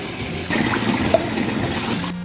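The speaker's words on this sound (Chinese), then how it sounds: "煮好过后，我们用流水清洗一下。" Cooked chicken feet are rinsed under a running tap, a steady splashing stream of water that starts abruptly and stops near the end, heard close and alone.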